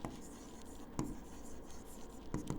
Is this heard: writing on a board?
yes